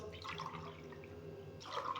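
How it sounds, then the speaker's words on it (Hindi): Measured glasses of water are poured into a steel kadai on a medium flame for cooking moong chilka dal, making quiet splashing in two short bursts with soft trickling between them. "अब इसमें 3 गिलास ये पानी नाप के डाल दूंगा।"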